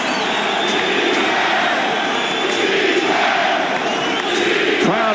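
Basketball arena crowd on its feet during a Nuggets–Lakers Western Conference Finals game, a dense continuous roar with chanting and cheering that stays loud throughout and swells near the end.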